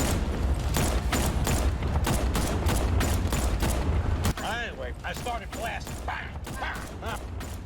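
Rapid repeated gunfire from a Batman Arkham game, a steady rattling volley for several seconds before it stops and a voice takes over.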